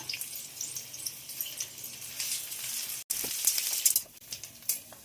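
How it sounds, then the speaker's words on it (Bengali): Onions frying in hot oil with whole spices, bay leaf and curry leaves, a quiet crackling sizzle with scattered pops that briefly cuts out, then returns brighter and busier. "পেঁয়াজগুলো খুব ভালো করে ভাজা হয়ে গেছে।"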